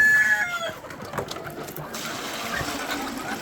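Chickens cluck and crow close by in short bursts, over a soft liquid trickling noise, with no talking.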